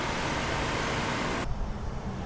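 The 4.0 liter V6 engine of a 2014 Nissan Xterra runs at a steady idle. A loud, dense hum is heard with no voices, and it drops abruptly to a quieter, muffled rumble partway through.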